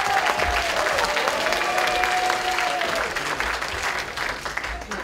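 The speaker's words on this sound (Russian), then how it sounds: "Тоже похлопаем." Concert audience at a student gala with a symphonic pop orchestra applauds steadily for about five seconds, a dense, fairly loud clapping wash from a large crowd with no talk over it.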